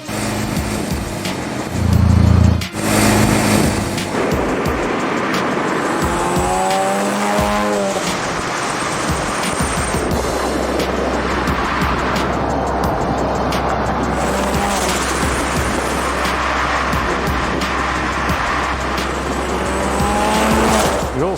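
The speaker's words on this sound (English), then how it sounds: "this is my bat car, the RX-7" A Mazda RX-7 sports car revs hard and drives with loud, sustained engine drone, sweeping pitch changes and long squealing tires close by, opening with a sharp burst, without any voices.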